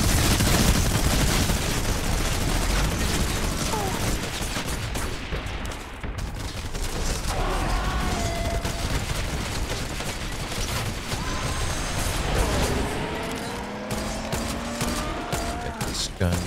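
Gunfire in Fortnite Save the World, with dense overlapping shots and bursts during a chaotic fight, loud and continuous, as a player's voice calls out over the din.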